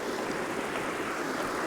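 A stream of running water flows down past a temple in Abyaneh village, Iran, a steady broadband rush heard close and continuous with no voices.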